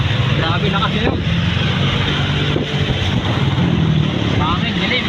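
Strong, steady typhoon wind roars and buffets throughout, with a loud rushing, rumbling texture and brief voices breaking through now and then.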